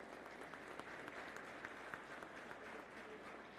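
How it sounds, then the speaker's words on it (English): Faint applause from an audience at a youth foundation's anniversary celebration, a steady patter of many hands heard from a distance with a few sharper claps standing out. "It deserves a round of applause"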